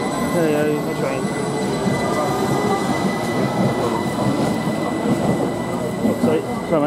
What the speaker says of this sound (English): There you go, that's a train.